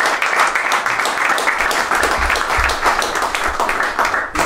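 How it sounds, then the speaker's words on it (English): A live audience at a freedom-activism tour event bursts into dense, continuous clapping, loud and sustained for the whole stretch with no speech over it. "Can we hear a round of applause for Cop Block?"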